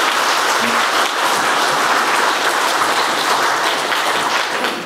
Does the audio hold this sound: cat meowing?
no